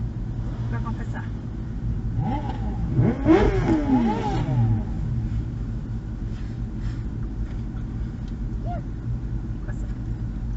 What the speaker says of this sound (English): This car's revving its engine.